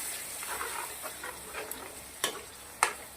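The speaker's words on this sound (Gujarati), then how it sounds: "હવે મિક્સ કરી દઈશું" Spinach gravy is stirred in a cooking pan, with a soft, steady sizzle broken by a few sharp scrapes and taps of the spoon against the pan.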